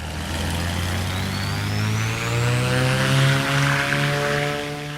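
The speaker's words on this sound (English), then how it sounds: "you will be able to hear the turbochargers spool up. It's a characteristic high-pitched whine sound" A Black Square Dukes twin-engine aircraft in a flight simulator, turbochargers spooling up: a thin high-pitched whine rises steadily over the continuous deep propeller and engine drone, loud and sustained throughout.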